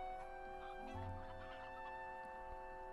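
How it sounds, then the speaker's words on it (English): A chicken clucks a few times in a fantasy video game, a faint short burst of fowl sound over a steady background of game ambience and music tones, with no talking. "I heard the chicken."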